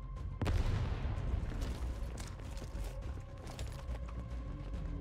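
A frag grenade blast thumps early in a video game firefight, followed by rapid, crackling bursts of gunfire that keep popping at a steady clip throughout.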